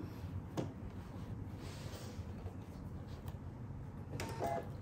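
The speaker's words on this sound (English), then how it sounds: "And then we're going to sew across that seam." A sewing machine stitching across a fabric seam on a box pouch, a continuous close mechanical whir with a few sharp clicks and knocks, fairly quiet.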